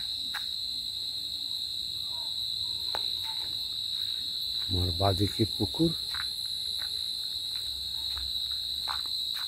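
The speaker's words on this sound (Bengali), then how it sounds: "অবিরতভাবে ঝিঝি পোকারা ডেকে চলেছে।" Crickets chirp in a steady, unbroken high drone through a rural Bangladeshi autumn night beside a pond, with a brief burst of someone talking in the middle.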